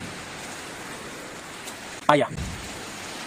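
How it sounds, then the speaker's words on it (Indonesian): Heavy rain: a dense, steady hiss of downpour throughout, with a brief louder burst midway as someone speaks over it. "Dengan hujan sederas ini?"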